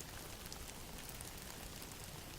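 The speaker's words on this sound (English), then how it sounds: "Outside, the rain began again, tapping softly against the shutters." Steady soft rain falling and tapping against window shutters, a continuous even patter with no voices.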